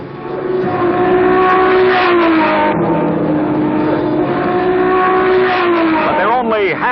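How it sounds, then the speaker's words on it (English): Lotus Cortina race cars lap the Sebring circuit, their loud engines droning and rising in pitch as they pass close by, with a commentator's voice running over the engine noise. "Both Lotus engines functioning perfectly."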